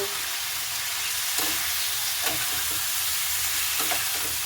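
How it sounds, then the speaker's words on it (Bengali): Mustard and slit green chilies fry in a pan while being stirred steadily, a loud, close, continuous sizzle with repeated scraping stir strokes and no talking. "এবার দেখুন সরষা আর লঙ্কাটাকে আমি ভালোভাবে কিন্তু নাড়াচাড়া করে নেব"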